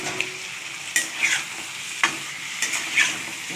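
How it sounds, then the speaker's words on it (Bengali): Cauliflower and potato pieces sautéed with spices in a hot pan: a continuous loud sizzle broken by several stirring scrapes and clacks, close up and without speech. "ভালো করে এটার সঙ্গে কষিয়ে নিতে হবে।"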